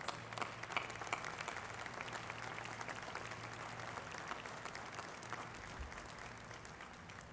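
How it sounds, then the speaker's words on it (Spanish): Steady applause from an audience at a Spanish-language local-government best-practices award ceremony, filling the whole stretch at an even, moderate level over a faint low hum, with no voices. "Un fuerte aplauso de todos los presentes."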